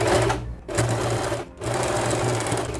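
An Usha Janome sewing machine runs an overlock stitch on fabric in three steady bursts of fast motor whir, cut by two brief pauses, close and loud with no talk.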